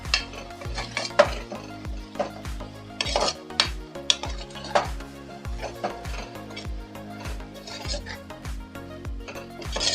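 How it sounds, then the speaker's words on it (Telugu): Raw potato pieces being stirred together in a pot for an aloo tomato curry, with repeated clinks and scrapes of a spoon against metal in an uneven rhythm, close and moderately loud. "అన్నీ కలిసేలా ఒకసారి కలుపుకున్నాం ఫ్రెండ్స్"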